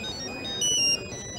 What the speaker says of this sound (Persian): تلفن دخترم.